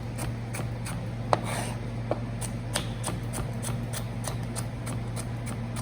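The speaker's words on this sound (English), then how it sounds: "Celery can just be cut through like this." A knife slices through celery on a cutting board in a series of crisp, evenly spaced chops, about a dozen strokes in a steady rhythm over a low background hum.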